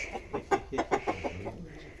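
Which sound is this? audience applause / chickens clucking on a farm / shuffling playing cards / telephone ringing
chickens clucking on a farm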